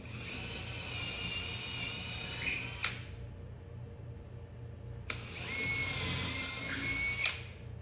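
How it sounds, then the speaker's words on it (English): Two bursts of a power drill whirring at close range, drilling holes in a wall for molly anchors, each running a few seconds, separated by a short pause with faint background noise. "Now I'm drilling the holes in my marks."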